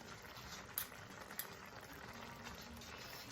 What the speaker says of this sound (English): I'm just going to let that cook away with the garam masala on top now.